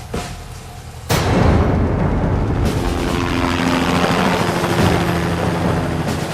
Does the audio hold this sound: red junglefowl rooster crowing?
no